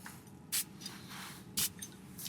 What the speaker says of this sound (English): let's spray some derby on, shall we?